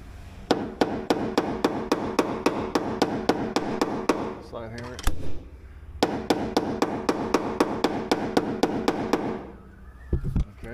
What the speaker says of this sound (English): Slide hammer it again.